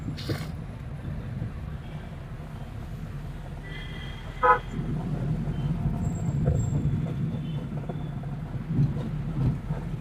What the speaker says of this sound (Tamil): அவ்வளவு வண்டி வந்துகிட்டு இருக்கு